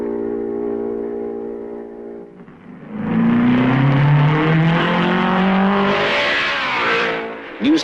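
Race cars at the 1955 Belgian Grand Prix roar past, rising from a steady engine drone into a loud, close pass with rising and falling engine pitch, then fading away.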